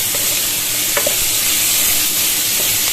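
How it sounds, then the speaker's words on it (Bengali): Chopped onion and tomato fry loudly in a wok, a dense close sizzle that stays constant throughout, with faint scraping knocks from stirring now and then. "এটাকে ভালো করে নাড়াচাড়া করে নেব, বেশ একটু ভাজা ভাজা করে নেবো"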